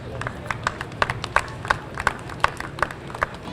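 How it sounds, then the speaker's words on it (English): Scattered clapping from a small outdoor crowd at a National Night Out community event, uneven claps rising and falling over a few seconds with a murmur of voices underneath. "Give yourself a nice round of applause"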